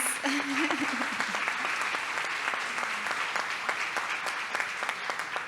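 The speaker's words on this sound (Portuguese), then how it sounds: "Uma salva de palmas." Audience applause at the opening of a seminar on museum and memory politics, steady dense clapping that fills the room, with a brief voice rising faintly under it near the start.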